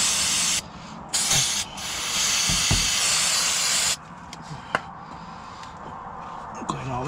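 Aerosol cleaner sprayed onto engine parts during an oil change on a 2011-or-newer Dodge Durango 5.7 Hemi: several loud hissing bursts, one long spray lasting a couple of seconds, then quieter clinks and handling noises.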